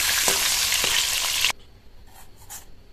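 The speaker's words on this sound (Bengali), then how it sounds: "মাছের একটা পিঠ হালকা করে হয়ে গেলে আর একটা পিঠ উল্টি দিয়ে ভেজে নেব" Rohu fish pieces frying in oil in a pan, a loud hissing sizzle with a couple of sharp pops that stops abruptly midway, leaving a quiet background with faint clinks.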